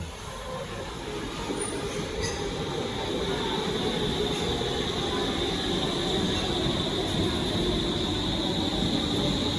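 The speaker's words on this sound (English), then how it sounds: "Here is the train back to T-Centralen." A Stockholm metro train running between Slussen and T-Centralen, its steady low rumble and rolling wheel noise filling the car with a faint high whine above, heard from on board at close range.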